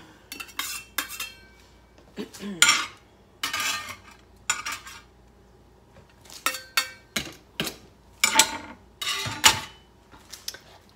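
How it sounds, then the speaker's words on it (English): A utensil stirs Rotel tomatoes and red onion in a pan with a series of scraping, clinking strokes against the metal, close up and irregular, separated by short pauses. "And give it a stir."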